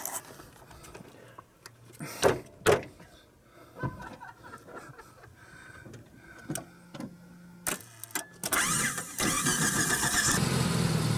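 A vehicle engine with a trailer hitched cranks through several short bursts, then catches and runs loudly for the last few seconds, with laughter and chatter nearby.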